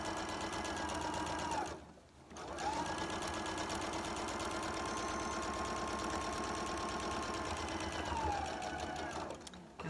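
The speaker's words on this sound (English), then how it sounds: "Then I'm gonna come on over here to the sewing machine" A sewing machine runs steadily, stitching a quarter-inch seam on a triangle quilt block, with one brief pause before the motor hums on again for a long continuous run, close and alone.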